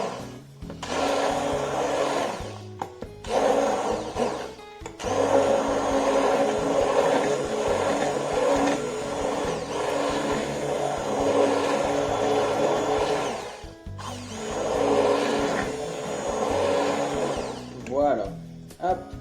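A blender whirs steadily while mixing watermelon sorbet with cinnamon, running loud in long bursts with brief pauses between them, as a voice talks over the motor.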